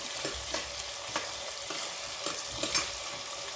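Onions and green chillies fry and sizzle in a pan for a hotel-style spicy chicken biryani, a continuous loud hiss broken by occasional scrapes of stirring, no voices.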